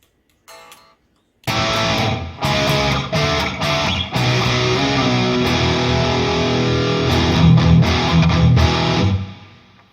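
Distorted electric guitar through an amp simulator plays chords and sustained notes with a wet, reverberant tail, loud and continuous after a brief opening strum, then fading out.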